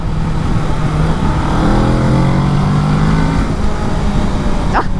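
A 2020 Kawasaki Ninja 650 twin on the move, its engine note rising and shifting through the revs under steady wind rush, loud and close, with no speech.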